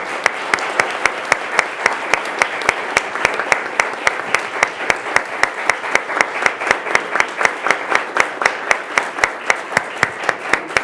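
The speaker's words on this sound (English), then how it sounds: "Let's applaud. I think that deserves a standing ovation." Applause with a standing ovation at a city council meeting, steady sustained clapping from a room of people lasting throughout, close and full with no talking over it.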